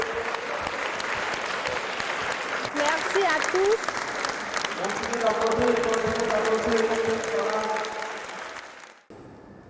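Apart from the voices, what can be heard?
audience applause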